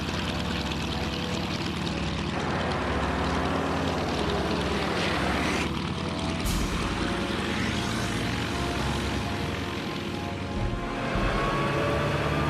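Propeller airplane engine drones loudly and steadily in an animated cartoon scene, a continuous buzzing hum with a sharp transient midway and shifting engine tones throughout.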